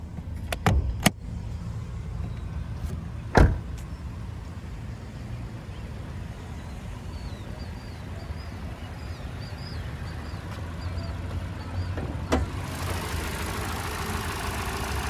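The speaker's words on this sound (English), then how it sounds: "there's that 2-liter naturally aspirated 4-cylinder" A 2021 Toyota Corolla SE Apex's 2-liter naturally aspirated four-cylinder idles with a steady low hum, with a few sharp clicks and thumps near the car early on.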